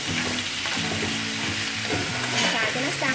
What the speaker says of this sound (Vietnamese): mình sẽ cho phần thịt bồ câu vào xào thơm nha các bạn